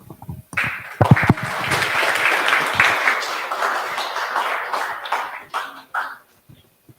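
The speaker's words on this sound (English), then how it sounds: "A huge round of applause again for him." An audience at a talk on AI in healthcare applauds, a burst of clapping that swells, holds for several seconds and then thins out to a few scattered claps.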